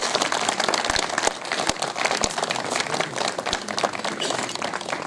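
A crowd at a house opening ceremony for a minority board applauds to welcome a guest, a dense, continuous wash of many hands clapping at even loudness, with a few sharper individual claps standing out.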